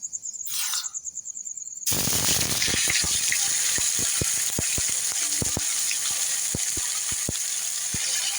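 Garlic and onion paste hitting a hot pan while cooking a thin mutton curry: a sudden loud burst of sizzling frying that continues steadily with scattered pops and crackles, after a brief quieter opening.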